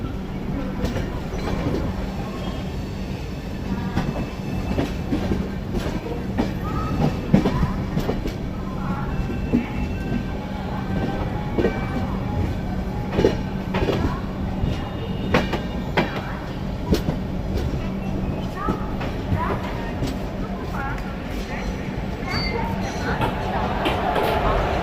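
Chennai Rajdhani express running with a WAP 7 electric locomotive at the head, heard from inside a third AC coach as a steady loud rumble with rhythmic clickety-clack of wheels over rail joints throughout.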